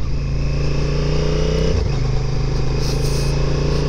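A 2022 Honda NT1100 motorcycle engine drones steadily at high revs, dipping briefly on quickshifter upshifts before climbing back, with wind rushing over it.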